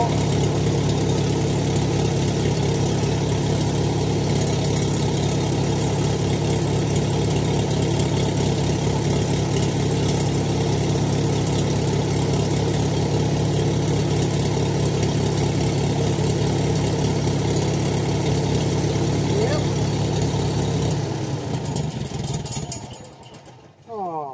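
An engine idles after valve servicing, a steady, even mid-low drone running unchanged for about twenty seconds before it dies away and cuts off near the end.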